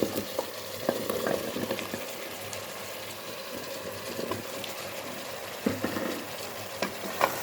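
Turnips, about 900 grams, stirred into home-cooked mutton (shalgam gosht), giving a steady wet sizzle with scraping spoon strokes and occasional louder stirs, close and continuous without talk.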